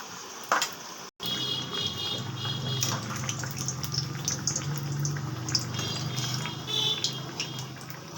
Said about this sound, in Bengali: মালপোয়া সবসময় ডিপ ফ্রাই করবেন, বেশি করে তেল দিয়ে দেবেন কড়াতে, ডিপ ফ্রাই হবে।